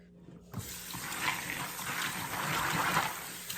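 Tap water runs steadily into a kitchen sink as beans are rinsed in a strainer, a broad continuous rush starting abruptly and staying close and fairly loud.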